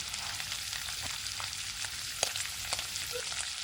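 Bread pieces dipped in egg fry in hot oil with a continuous soft crackling sizzle, broken by occasional sharp pops and light clicks as they are moved around. There is no speech.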